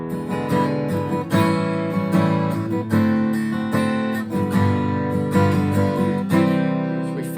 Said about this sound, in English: And you get a chord progression that sounds like this.